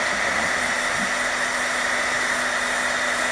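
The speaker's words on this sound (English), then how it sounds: "we'll just shoot it with some hot air" A heat gun blowing hot air over paint-pen paint to dry it, a steady close, loud whooshing hiss with an even drone throughout and no talking.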